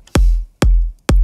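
Three shortened electronic kick drums from a dance track hit at an even, moderate pace, each a loud, punchy low thump with a quick pitch drop and a clipped tail, separated by brief silences.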